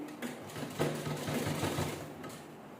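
A sewing machine stitches a laptop cover in a quick, even run of needle clatter at moderate volume, starting and stopping briefly, with no talking.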